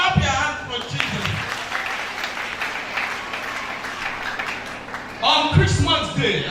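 A church congregation claps for Jesus during a sermon, steady massed clapping running under a preacher's voice, with talk rising louder again near the end.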